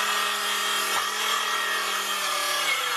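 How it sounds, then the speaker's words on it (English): A reciprocating saw cuts through wood while building a workshop back-door landing, giving a loud, continuous buzzing rasp with a brief dip near the one-second mark. "I rarely use a reciprocating saw."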